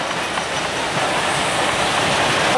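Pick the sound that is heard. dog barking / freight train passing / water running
freight train passing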